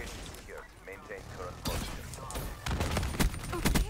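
Gunfire from the Man-O-War rifle in Call of Duty: Black Ops 3 multiplayer, heard as a burst of rapid, punchy shots with thuds in the second half, close and loud, mixed with game sounds and someone talking.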